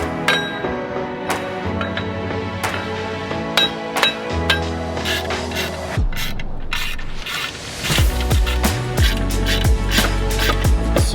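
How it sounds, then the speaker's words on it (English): A torque wrench tightening the wheel bolts on a turbocharged Scion FR-S to 63 foot-pounds, heard as close metallic ratcheting clicks and clinks in short bursts over steady background sound. "Tighten all these by hand in a star pattern, then we'll go ahead and get them torqued down."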